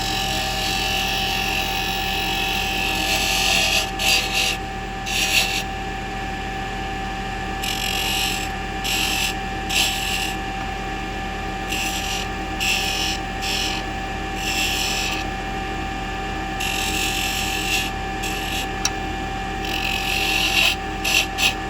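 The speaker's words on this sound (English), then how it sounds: "use your skew to refine the wood right here, and also round over the corners of the brim of the hat" A skew chisel cuts wood on a spinning lathe while shaping a snowman ornament's hat brim, giving a steady motor hum with recurring scraping bursts of cutting, close and continuous throughout.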